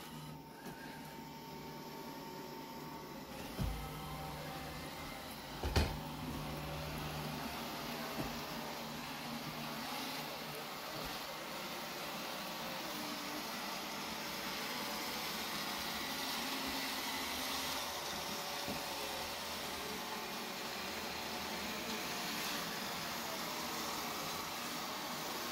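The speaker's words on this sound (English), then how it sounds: "Now the Roborock took the lead over, and the Roomba S9 is hung up on the..." Roomba S9 and Roborock S5 robot vacuums running at once, a faint steady motor whir and brush hiss with a couple of soft bumps early on.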